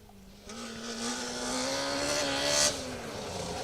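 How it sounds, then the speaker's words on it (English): A lime green Chevrolet Nova rally car on a two-wheel-drive stage of the Woodpecker Stages Rally 2023 passes, its engine note rising in pitch as it approaches, loud and close near the peak, then easing away. "A lime green coloured Nova. I can hear it singing along."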